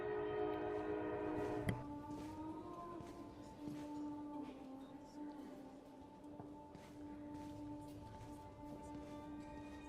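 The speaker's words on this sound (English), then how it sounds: "Here comes the train." A train rolls in within a video game, a sustained rumble of rail noise with a steady horn-like tone held across the whole stretch and a sharp clank near the start.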